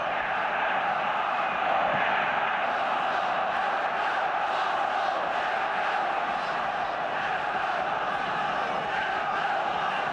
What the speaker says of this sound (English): The Arsenal crowd beginning now to make a wee bit more noise than the Liverpool people.